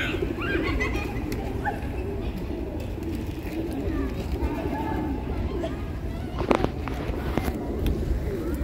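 A flock of pigeons is fed in a city plaza in Saltillo, Mexico, with soft cooing and fluttering under a steady murmur of crowd babble and nearby people talking, plus a brief louder clatter partway through.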